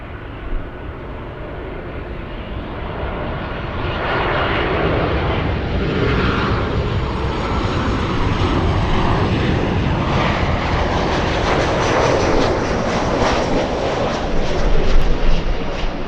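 An airliner taking off at LAX builds into a loud, continuous engine roar that swells after the first few seconds and stays strong to the end, with no talk.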